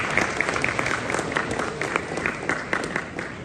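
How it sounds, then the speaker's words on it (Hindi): Wedding guests at a reception in the Hilton London clap together in a steady, dense round of applause that fills the room, with faint voices mixed in. "सबके तालियां जी उनके लिए,"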